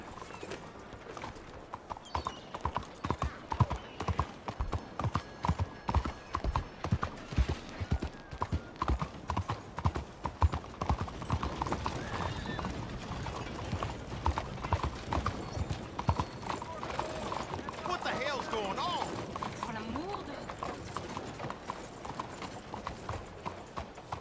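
Horse hooves clip-clop at a steady walking rhythm in Red Dead Redemption 2, clear and continuous with faint ambient game sounds underneath.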